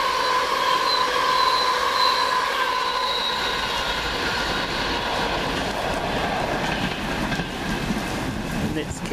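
A Virgin train pulls away from Crewe station on the far platform, its rumbling wheels and squealing, hissing spray carrying steadily for several seconds at moderate distance, with faint talk underneath.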